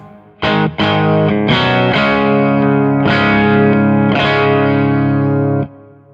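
An electric guitar tuned to drop D with split-coil pickups is strummed a few times and then a chord rings out and sustains, with a thin, bright tone and no talking.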